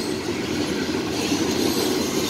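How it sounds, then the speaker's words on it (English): A CSX or Norfolk Southern freight train rolling past on the rails, a steady close rumble of wheels with faint metallic squeal throughout. "so what train is this?"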